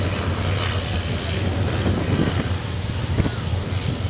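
A Sopwith Camel biplane with a rotary engine flying at an air show gives a steady, broad engine drone, buffeted by heavy wind noise across the microphone.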